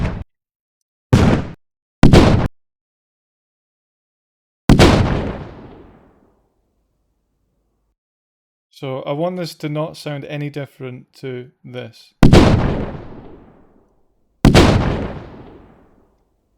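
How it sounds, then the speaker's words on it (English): Booming explosion effects auditioned in the Reaper audio editor burst out one after another, each a heavy blast with a decaying tail, separated by silence; someone speaks briefly midway between them. "I'm going to just drag in an explosion and make sure it sounds decent."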